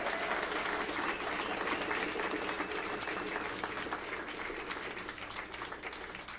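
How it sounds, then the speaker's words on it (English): A jazz club audience claps steadily after a trio's set at Birdland in New York, sustained applause filling the room throughout and easing off slightly toward the end. "how about a round of applause for this terrific and amazing musicians"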